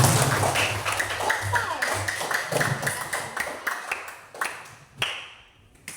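Classroom applause for student group 6 in a religious education lesson, a burst of scattered hand claps that thins out into a few isolated claps, with some voices mixed in.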